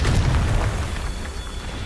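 Confringo fire spell exploding in Hogwarts Legacy, a loud booming blast with a deep rumble that gradually fades out over a couple of seconds.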